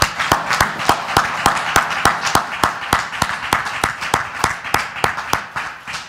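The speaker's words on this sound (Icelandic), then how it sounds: "Og gefið þeim aftur gott klapp." An audience claps at a presentation on green housing of the future at Reykjavík City Hall, a brisk, even burst of applause from a modest crowd, fairly close, fading slightly at the end.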